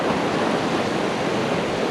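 Sea waves breaking at a North East shore with a slight swell, a continuous loud wash of surf and rushing water with no distinct breaks, no voices.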